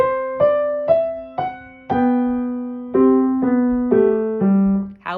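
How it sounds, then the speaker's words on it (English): Piano playing measures 11 and 12 of Bach's Minuet in G with a smoothly connected left hand, a steady run of about ten notes flowing into one another over a sustained low line. Close and alone. "then the left hand's going to be entirely smooth for measures 11 and 12"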